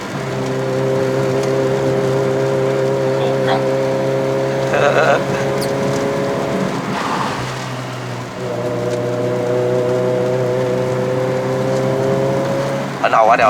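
A 2005-era ZC31S Suzuki Swift Sport with a 1.6L engine and five-speed manual climbs a slippery mountain road in Malaysia, its steady engine drone holding loud and close, easing off briefly mid-run before droning on again, with a voice speaking over it.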